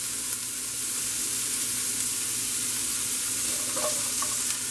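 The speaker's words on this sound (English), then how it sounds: "we're gonna add the onions, the Brussels sprout to it. So want to saute that a little bit" Brussels sprouts and onions sautéing in a pan alongside bacon, a loud, continuous close sizzle with a faint clink near the end and no talk.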